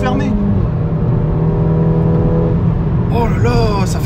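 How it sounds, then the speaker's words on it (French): Ford Fiesta ST Mk7.5 engine heard from inside the closed cabin, a loud steady drone that rises toward the end, with people talking excitedly over it. "Ah ouais, le son de l'intérieur tout fermé."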